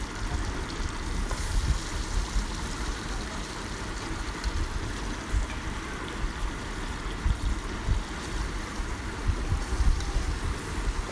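Goat trotters sizzling in spice masala in a cooking pot, a dense continuous frying crackle and bubbling heard close and steady throughout, with occasional louder pops.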